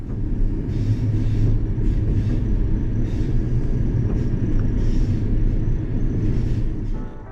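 From on board a Dutch MAT 64 train departing Amersfoort Centraal, a steady low rumble of running gear and motors fills the cabin, continuous and fairly loud.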